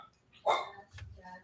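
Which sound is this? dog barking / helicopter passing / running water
dog barking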